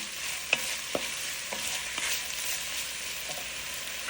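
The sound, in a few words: sautéing in a pan for duck roast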